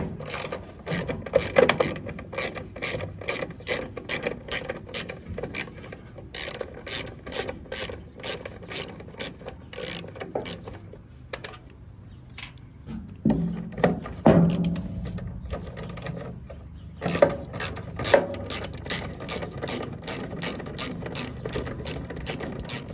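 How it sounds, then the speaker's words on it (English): A ratchet wrench clicks in fast, steady bursts while backing out 1/4 inch bolts from the taillight housing of a Ford F150 pickup, close and clear, with brief pauses between runs and no talking. "there are two more bolts on the inside that need to be removed that are 1/4 inch"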